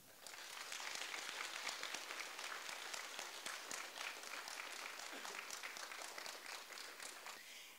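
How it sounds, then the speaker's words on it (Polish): Sustained applause from an audience, dense steady clapping that holds at an even level for several seconds before easing slightly at the end. "Proszę o oklaski"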